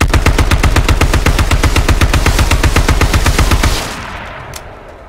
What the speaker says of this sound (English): The power of the AK.